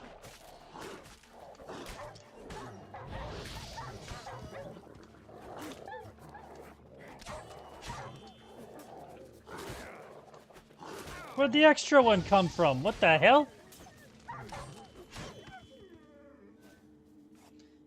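Growling and barking from wild dogs in a video game, a short aggressive burst of snarls rising loudly for about two seconds, with a voice talking before and after over quiet game sound.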